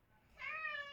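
A pet cat indoors gives one drawn-out, high, fairly clear meow in a quiet room, rising after a soft start and holding briefly before the clip ends.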